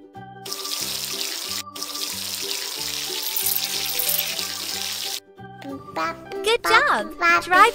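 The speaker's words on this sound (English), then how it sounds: "Rinse the soap." Water pours steadily to rinse soap off a baby in a kids' daycare video game, a continuous faucet-like stream for about five seconds, followed by a chirpy cartoon voice and game jingles.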